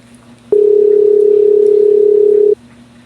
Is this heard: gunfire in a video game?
no